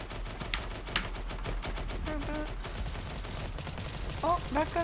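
Gunfire from NPCs fighting in the video game Stalcraft: rapid bursts of shots, some sharp and close, others more distant, with speech and chirping birds mixed in over steady background ambience.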